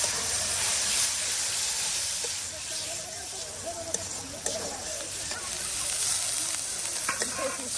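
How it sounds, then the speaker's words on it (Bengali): Spice paste fries with salt in a pan during riverside cooking of a gourd and egg dish: a loud, continuous sizzle with scattered stirring scrapes and faint voices in the background. "সবকিছু দিয়ে মশলাটাকে কষিয়ে নেওয়া হচ্ছে"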